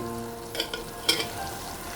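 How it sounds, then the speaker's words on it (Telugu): Drumsticks stirred into fried onions in a hot pan, a steady sizzle with a few scraping stirs and one sharper clack, close and without talk. "ఇప్పుడు ములక్కాడలు వేసుకుందాం. ఇవి బాగా కలుపుకుందాం."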